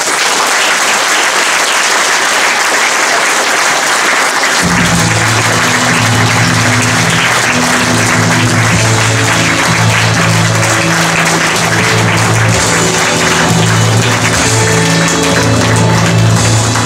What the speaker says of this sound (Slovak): Veľký potlesk, prosím.